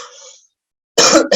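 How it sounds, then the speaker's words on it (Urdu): Two rough, dry coughs burst out close and loud near the end, a longer one then a short one, after a brief stretch of soft breathy noise and silence. "بس ایک ہفتے سے نا سوکھی کھانسی چل رہی ہے"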